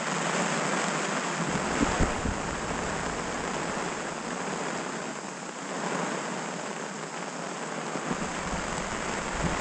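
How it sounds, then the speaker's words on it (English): Heavy rain pours down steadily outdoors at a carp fishing spot, a dense, loud, continuous hiss with gusts of wind buffeting the microphone and no voices. "The rain is absolutely chucking it down right now."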